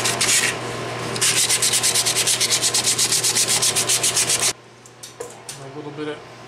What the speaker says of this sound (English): I think I'm also going to hit this to take off that little bit of epoxy that leaked.